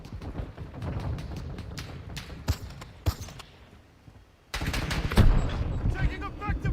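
Rapid bursts of video-game gunfire from Call of Duty Modern Warfare II, sharp close cracks and volleys that fade into a lull, then a denser, louder barrage.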